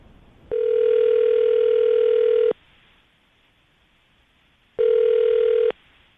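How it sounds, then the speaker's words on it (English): A telephone call rings out through the line: two long electronic ringback tones separated by a gap of silence, clear and loud. "we're going to call her right now, see if we can get her on the phone"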